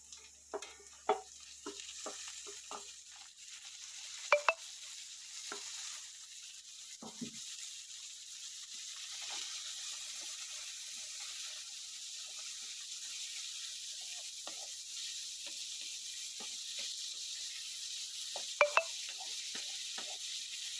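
Onions and tomatoes sauté in a pan for beetroot masala curry, a soft steady sizzle with scattered stirring scrapes and a couple of sharper knocks, close but fairly quiet, no talking.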